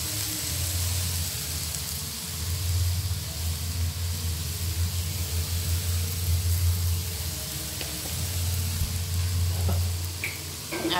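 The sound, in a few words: paneer and sugar frying in a pan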